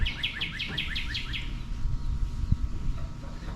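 Songbirds chirp outdoors under a clear sky, a quick run of bright repeated tweets close by for the first second and a half, then quieter open-air ambience.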